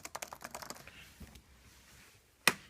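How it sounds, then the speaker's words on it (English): Fingers tap quickly on the keyboard of a Dell Latitude E5430 laptop, a close, quiet burst of clicky keystrokes that slows into a few scattered taps and ends with one sharper press. "It has a really nice keyboard."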